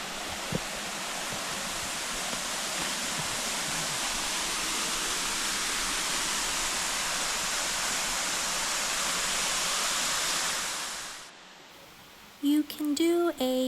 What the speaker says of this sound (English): When you do this tour, you have the waterfall all to yourself.